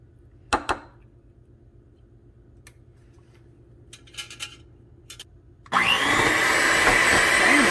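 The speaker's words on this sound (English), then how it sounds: "I'm gonna go and grab my blender things again, and I'm gonna blend it again." A few sharp clicks and knocks, then a blender starts up blending almond flour and runs loudly and steadily with a high whirring roar.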